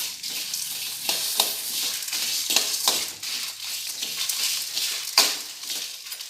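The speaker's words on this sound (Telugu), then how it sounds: "ఇవన్నీ లో ఫ్లేమ్లో వేయించుకోవాలండి" Star anise, dried red chilies, cardamom and cinnamon fry in a pan over a low flame, giving a close, continuous sizzle broken by repeated scraping strokes of stirring.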